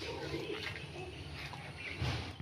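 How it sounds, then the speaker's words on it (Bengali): A fancy pigeon kept in a small cage gives soft, low, murmuring coos, faint and close in a quiet room, with no speech over it. "এই খাঁচাটাতে আমি পায়রাটা রেখেছি"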